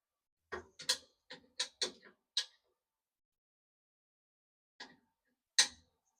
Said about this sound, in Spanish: lo acabo de apretar con la llave